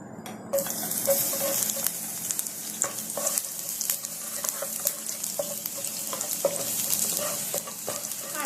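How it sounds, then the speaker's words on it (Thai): Minced garlic stir-frying in about a tablespoon and a half of vegetable oil in a wok: a steady, bright sizzle throughout, with repeated clicks and scrapes of a spatula stirring, close and fairly loud, no talking. "แป้งก็จะเติมกระเทียมสับลงไปผัดให้หอมเลยค่ะ"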